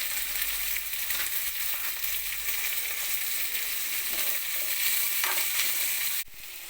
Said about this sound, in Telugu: చూడండి, ఆనియన్ రోస్ట్ అయింది.